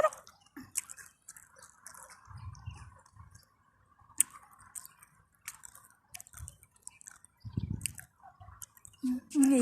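Cats crunching and chewing LAY's potato chips up close, irregular crisp crackles and soft squishy chewing with pauses, under occasional quiet talk.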